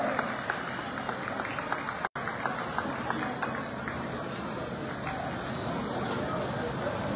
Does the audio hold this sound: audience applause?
yes